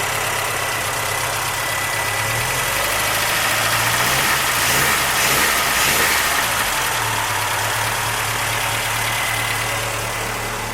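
A Triumph TR4 engine idles steadily and fairly loud, a smooth continuous low rumble with a slight swell in the middle, alone with no talk.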